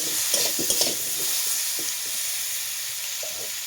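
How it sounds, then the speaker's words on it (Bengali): Mango pieces fry in a pan for chutney with a steady broad sizzle, broken by a few sharp clicks and scrapes of stirring early on, close and fairly loud. "বন্ধুরা, আমি আমটা ভালোভাবে ভেজে নিয়েছি।"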